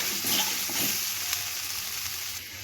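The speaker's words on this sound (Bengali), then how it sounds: "এবার ভেজে রাখা আলুগুলো আমি এর মধ্যে দিয়ে দেবো।" Pre-fried potatoes going into a sizzling spice masala for vegetarian Kashmiri aloo dum, a continuous bright frying hiss with faint stirring that holds steady throughout.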